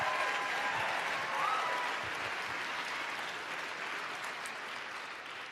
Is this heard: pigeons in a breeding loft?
no